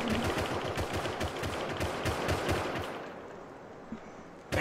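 Rapid automatic gunfire in the survival game Rust Console Edition, loud sustained bursts with dense repeated shots that ease off toward the end, followed by a couple of isolated cracks.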